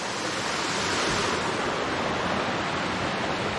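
Chakratirtha waterfall near Anandapur in Keonjhar roars close by as a loud, dense, unbroken wash of falling water.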